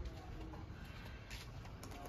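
Pigeons coo softly as a flock settles back onto a rooftop loft, a faint, low, continuous murmur of bird calls with steady background hiss and no talking.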